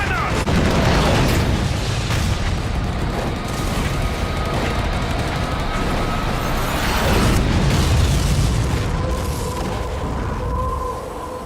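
Artillery explosions in a World War II real-time tactics game set on the Eastern Front: dense, continuous rumbling blasts and booms at a loud level throughout, with shouted voices mixed into the battle.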